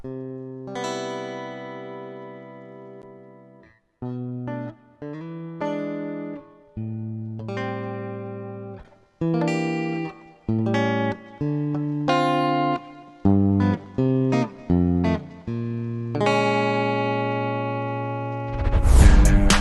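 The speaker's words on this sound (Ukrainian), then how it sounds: "Педаль Масамуне має дві сторони: ліва це бустер, права це компресор." Electric guitar runs through a Masamune dual pedal with booster and compressor sides, playing sustained chords and single notes in short phrases, clean and present, ending with a burst of noisy strumming.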